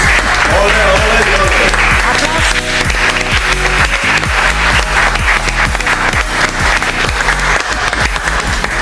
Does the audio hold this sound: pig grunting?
no